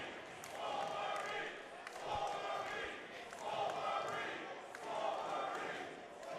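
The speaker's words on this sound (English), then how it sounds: "you can hear the crowd chanting "Swolverine"" Wrestling crowd at a Warrior Wrestling event chanting in a rhythmic, repeated pattern, the chant rising and falling in four swells across a large arena, dense and somewhat distant.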